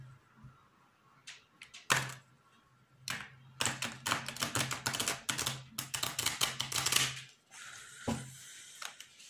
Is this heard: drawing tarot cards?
yes